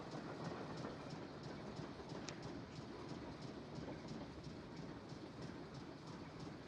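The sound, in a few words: ambient train noises in Nancy Drew video game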